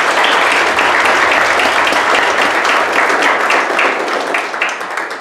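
A church congregation claps loudly and continuously at a fellowship service, sustained applause that eases off slightly toward the end.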